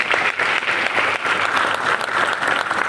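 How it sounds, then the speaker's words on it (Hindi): An audience in a large hall breaks into dense, steady applause, many hands clapping together for about three seconds. "उनके लिए एक बार जोरदार ताली तो बनती है"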